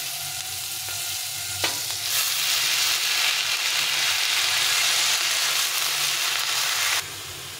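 Mustard greens frying in hot oil in a pan with fried red chillies, a steady loud sizzle that flares up as the greens go in and keeps crackling evenly, with no voices.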